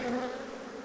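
A dense, steady buzz of many honey bees at a hive, close and continuous, with no talking.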